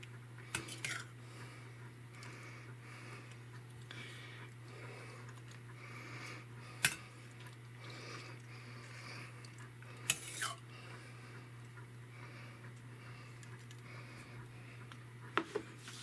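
Utensils clinking against dishes while food is plated, a few sharp, close metallic taps spread over a quiet steady hum, with no talking.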